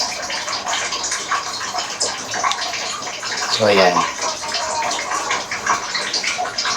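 Water poured into a pot of cut pork pieces and bones for a Hiligaynon kadyos, langka and baboy stew, a steady splashing rush running throughout while a person talks over it.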